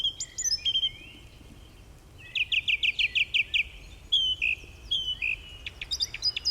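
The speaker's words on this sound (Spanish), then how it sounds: "un pájaro solo, un zorzal por ejemplo, es una canción" A songbird, a thrush, sings in a forest: bright repeated chirps and quick trilled phrases come in bursts with short pauses, fairly close and clear over a quiet background.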